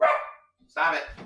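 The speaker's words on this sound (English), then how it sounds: "That's my dog, everybody." A pet dog barks loudly several times in a room, first in a burst and again after a short pause, while a person speaks over it.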